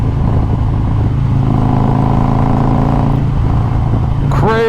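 A 2020 Harley-Davidson Road Glide Special with a 128 big bore kit, bigger injectors and a bigger manifold revs hard and close, a loud sustained engine drone rising in pitch, with a brief voice cutting in at the end.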